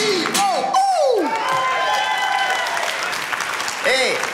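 A comedy club audience applauds loudly and continuously, dense clapping mixed with cheers and whistles filling the space throughout.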